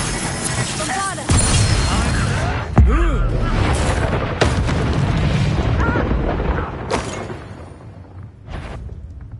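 The Bombarda blasting spell goes off in the Hogwarts Legacy video game as loud booming bursts with a crashing, rumbling tail, mixed with other in-game sounds.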